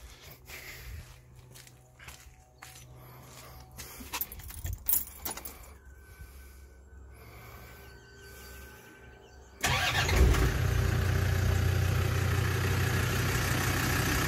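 Keys jangle and a few handling clicks, then a 2006 Land Rover Defender 110 pickup engine cranks and catches, settling into a loud steady idle.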